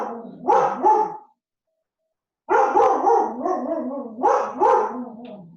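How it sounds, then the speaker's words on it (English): A dog barks at people walking by on the street, sounding in two loud close bursts of several barks each, with a short silent gap between them and no talk. "Have the dog bark at people walking on the street."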